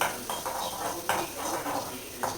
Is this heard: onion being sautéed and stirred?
yes